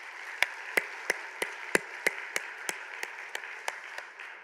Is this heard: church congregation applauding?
yes